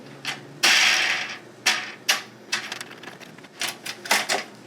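Locking pins being pushed into a Vevor 50-inch sluice to keep it from folding. A series of close, sharp metallic clicks and rattles comes in irregular bursts with no talk.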